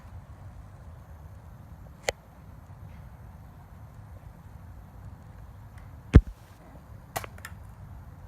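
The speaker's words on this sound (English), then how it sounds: "we're going to shoot it 1 more time since I have 2 more shells" BB gun shots outdoors: a few faint sharp snaps spread over several seconds, one clearly stronger, against a low steady background rumble with no speech.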